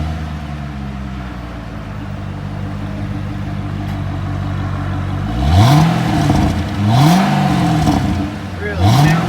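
A 2008 Chevrolet Corvette convertible with the LS3 V8 idles with a low, steady rumble, then is revved three times in rising-and-falling bursts, close and loud.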